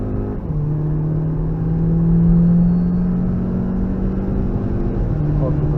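A car accelerates in the rain on the Nürburgring Nordschleife, its engine droning steadily with a rising and falling tone, loud and close, with an instructor's voice faint under the engine.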